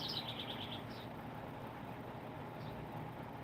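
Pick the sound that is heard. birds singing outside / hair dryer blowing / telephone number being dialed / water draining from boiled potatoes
birds singing outside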